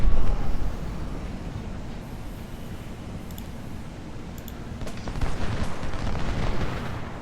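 Cavalry gunfire in the Civil War strategy game Ultimate General: Civil War, a continuous low battle rumble of distant shots and booms, loudest at the start and swelling again toward the end.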